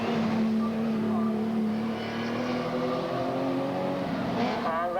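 Stock cars, including Sierras, race at Bolton Auto Speedway, their engines droning loudly and steadily from start to finish with shifting pitch as the cars pass, and no voice audible.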